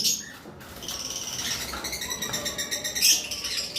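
A pair of cockatiels in a breeding setup give short, high, repeated calls and chirps close by over a steady background hiss, without any talk.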